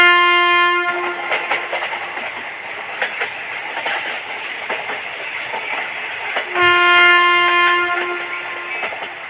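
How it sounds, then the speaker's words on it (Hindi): A train starts and gets under way. The horn sounds at the start and again partway through, over a steady rumble and regular clickety-clack from the rolling wagons. "ये लोग ये सोच ही रहे थे कि तभी ट्रेन शुरू हो जाती है।"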